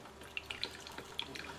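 Hot water drips and trickles inside a 2005 Mr. Coffee ESX10 10-cup coffee maker as brewing starts, a soft irregular patter of drops over a steady low hiss, quiet and close with no talking.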